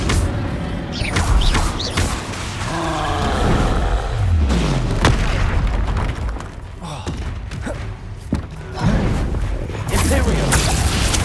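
Bombarda and Confringo explosion spells in the video game Hogwarts Legacy, repeated deep booms and roaring blasts with thuds, loud and close, over a voice speaking throughout.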